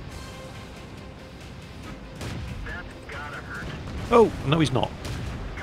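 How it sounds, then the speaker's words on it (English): Artillery fire in World of Tanks lands as a cluster of sharp, loud blasts late on, rising over a quieter, rumbling battlefield backdrop. A voice speaks briefly in the mix. "Oh, and that was artillery fire."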